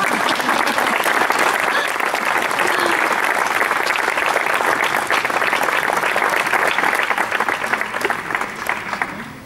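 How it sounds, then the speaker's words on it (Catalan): Audience applause at a Catalan poetry and music tribute to Ramon Llull, a dense, steady wash of many hands clapping for about nine seconds, loud and continuous before tapering slightly at the end. "Podeu aplaudir."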